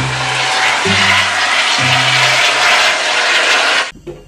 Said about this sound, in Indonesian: Lihat teman-teman, ini helikopter.